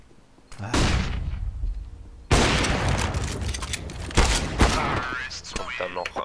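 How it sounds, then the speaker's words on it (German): Bursts of rapid gunfire and booming blasts from the video game Counter-Strike: Global Offensive crackle loudly one after another, with brief quieter gaps and some voices talking underneath. "da kommen da zwei Schüsse raus, wenn ich da rumrenne"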